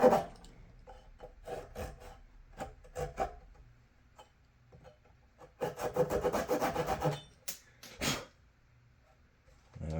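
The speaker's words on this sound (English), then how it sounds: "Now we need to cut the nut slot. Nut cutting time." Filing the nut slot on a homemade guitar built from free wood, with irregular bursts of rough rasping strokes, some brief and some in a longer rapid run, close by and fairly quiet.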